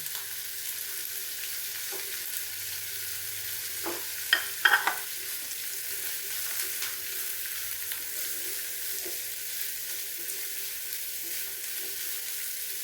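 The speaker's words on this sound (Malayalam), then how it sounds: "എണ്ണ ചൂടായിട്ടുണ്ട്. അരിഞ്ഞ് വെച്ചിരുന്ന സവാള ഇതിലേക്ക് ഇട്ട് കൊടുക്കും" Chopped onions frying in hot oil for a chutney make a steady broadband sizzle throughout, with a few louder crackles and spatters near the middle, close and alone with no talking.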